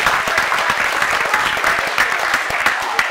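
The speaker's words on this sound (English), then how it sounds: "Give them a round of applause" A comedy club audience in Los Banos, California gives a loud, dense round of applause, many hands clapping together steadily throughout without pause.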